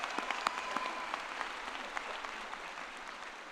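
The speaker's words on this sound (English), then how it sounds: "Let's give them a round of applause as well." A graduate commencement ceremony audience claps in a steady burst of applause, with individual claps standing out near the start before the sound thins slightly toward the end.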